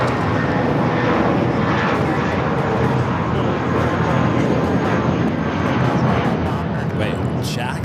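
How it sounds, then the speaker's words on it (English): Airbus A320 airliner taking off at LAX, a loud sustained jet engine roar that stays broad and steady throughout, with a voice talking over it. "Volaris 1713 taking off to Guadalajara on the A320"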